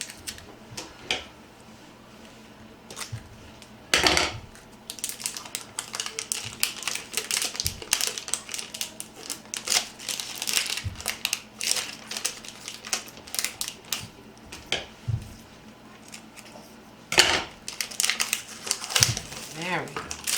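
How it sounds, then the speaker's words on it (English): Candles being unwrapped from their packaging make crinkly rustling and crackling at close range, in irregular bursts that continue through the whole stretch, with occasional sharper snaps. "I'm going to unwrap my candles"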